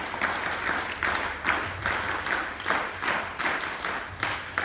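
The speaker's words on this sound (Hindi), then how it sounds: "उनका स्वागत, अभिनंदन आप जोरदार करतल ध्वनि से करें। वीर ताली।" Audience at a school Independence Day ceremony claps to welcome a guest, loud sustained applause that swells in rhythmic waves, like a crowd clapping in unison bursts, with no speech over it.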